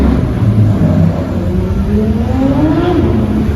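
A yellow Porsche GT3 RS revs its engine at a car meet near Geneva, a loud close engine note that rises steadily in pitch as it climbs with no talking.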